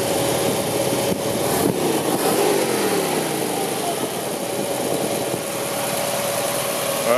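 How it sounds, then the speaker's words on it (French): A 1977 Ford Ranchero engine idles slightly high and steady at close range, a continuous mid-pitched drone with a faint whine running throughout, no talk over it. "Je t'avais dit que le ralenti était, je le pensais un petit peu élevé"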